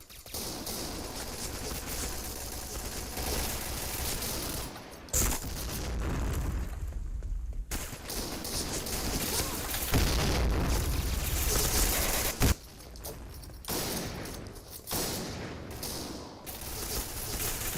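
Repeated bomb explosions and gunfire from the shooter game Point Blank, loud booming blasts with dense crackling bursts continuing across the whole stretch, broken by a couple of brief drops.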